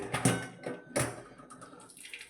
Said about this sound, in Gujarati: દાળમાં આપણે પાણી છે કાઢી લઈએ